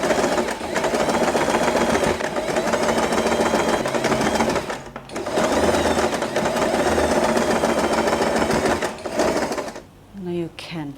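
A sewing machine stitches folded fabric for a layered ribbon bow, running in long, steady, close whirring bursts with short pauses near the middle and toward the end.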